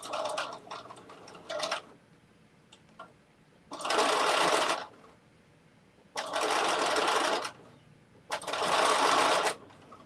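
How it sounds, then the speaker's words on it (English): A sewing machine stitches in short bursts, running for about a second or two at a time with brief quiet pauses between, close and clear. "my sewing machine is not having a problem with them"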